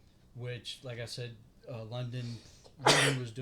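Talk about wrestling is broken near the end by one sharp, loud sneeze from a nearby person.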